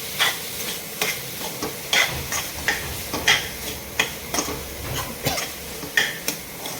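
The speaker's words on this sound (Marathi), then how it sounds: "हे फ्राय करत राहायचं असं 2 ते 3 मिनिटं" A paneer mixture frying in a pan is stirred steadily, with a soft sizzle under a rhythmic series of scraping utensil strokes against the pan, close and moderately loud, with no talking.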